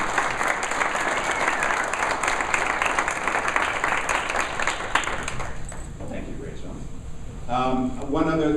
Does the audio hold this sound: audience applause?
yes